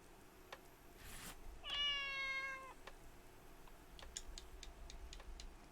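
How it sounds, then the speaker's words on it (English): A cat in The Good Life video game gives a single clear, drawn-out meow near the middle, set against faint ticking and quiet background ambience. "Cat Naomi can definitely hunt rats"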